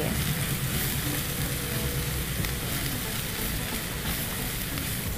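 Maize flour roasting in ghee in a pan for sarson da saag, a steady, close, dense sizzle and crackle that holds evenly throughout without pauses.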